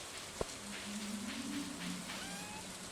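Rain falls in the farming game Stardew Valley, a soft continuous patter with a single sharp click near the start and faint tonal game sounds over it.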